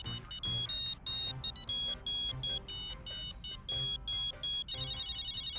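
A phone ringtone plays a bright, beeping little melody of repeated high electronic tones, loud and close, ending in a rapid trill.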